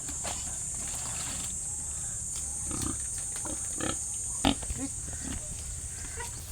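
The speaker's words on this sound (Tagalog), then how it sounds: "Kapag ibang tao ang may dalang pagkain ay ayaw sumunod nitong ating mga alagang baboy" Domestic pigs grunting on a farm as they are moved to a new pen, short low grunts scattered over a steady high-pitched background hum, fairly faint.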